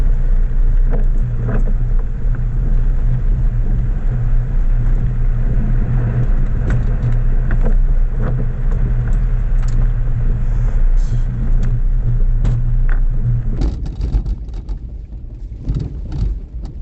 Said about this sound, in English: It's a very bumpy ride.